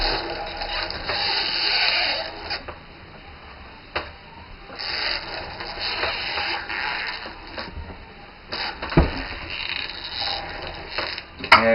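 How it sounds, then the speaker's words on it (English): An inexpensive two-dollar hand-style grinder mill grinds sprouted almonds, making a continuous rattling mechanical whir with intermittent clicks and knocks at close range, without talk. "we want to find out that everybody could use this themselves at home with an inexpensive grinder"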